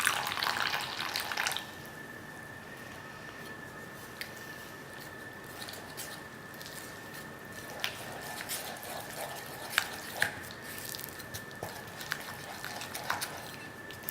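Water trickles steadily while being poured little by little into henna hair dye powder, a soft continuous running stream with a thin tonal ring and occasional light splashes, quiet and close.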